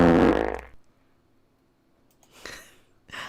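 A cartoonish fart effect from a movie, one loud burst at the start, then near silence, with two shorter bursts following later.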